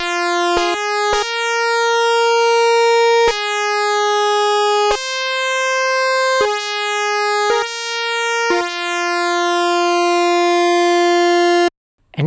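An Arturia Jup-8 V4 software synth plays a pulse wave with its width swept by the envelope, a bright buzzy tone in a run of sustained notes that change pitch and timbre, clear and loud, ending abruptly.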